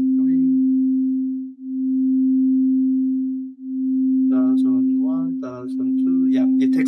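Two steady sine tones near 261 Hz beat slowly at 0.5 hertz, swelling and dipping about every two seconds, with a voice talking over the tone toward the end.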